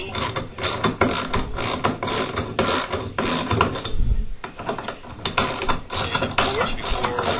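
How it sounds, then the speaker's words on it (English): A ratchet tightens the bolts on a toilet flange, compressing its rubber ring, in repeated bursts of rapid close clicking with short pauses between strokes. "tighten the bolts so that it will compress the rubber ring together, causing a nice tight seal"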